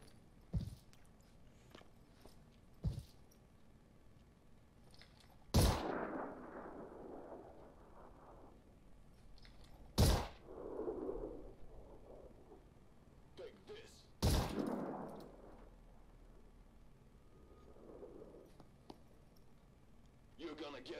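Gunfire in the tactical game Phoenix Point rings out as a few sharp, widely spaced shots, three heavy reports with rumbling tails and smaller pops between them, over a quiet background while people talk.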